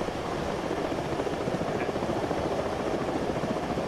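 A video-game helicopter flies with a steady, dense rotor rumble and engine roar, constant and fairly close, with no speech over it.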